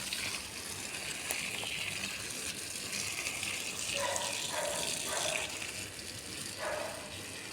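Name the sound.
watering plants with water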